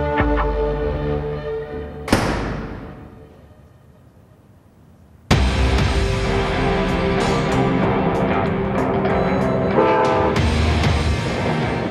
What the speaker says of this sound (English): The noon train arrives